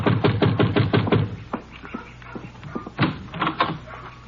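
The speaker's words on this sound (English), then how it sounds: "you better knock again" Knuckles rap on a wooden door in a loud burst of about eight quick blows, then single scattered knocks, then another short flurry near the end, set in an old-time Texas radio drama.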